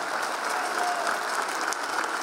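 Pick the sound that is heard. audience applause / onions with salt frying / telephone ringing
audience applause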